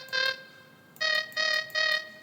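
Soundtrap synthesizer preset 'light weather' plays four bright, bell-like tonal notes, one short note followed after a pause by three evenly spaced ones, each clear and sustained with rich harmonics and no talk.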